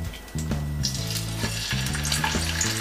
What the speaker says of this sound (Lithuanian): Tada dedame į keptuvę